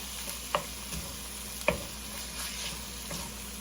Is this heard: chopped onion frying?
yes